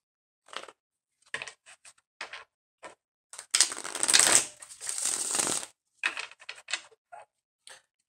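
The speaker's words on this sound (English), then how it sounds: "I shuffle my cards like a little" Cards are shuffled in short crisp bursts, then a longer riffling stretch, then more quick taps and slides, close and clear in a quiet room.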